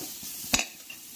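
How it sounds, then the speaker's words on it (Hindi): Peas being dry-roasted and stirred in a kadhai, a soft continuous sizzle with one brief scrape of the spoon against the pan midway. "मटर देखिए हमारी अच्छे से भुन गई है, ये बिल्कुल भी कढ़ाई में लगती नहीं है।"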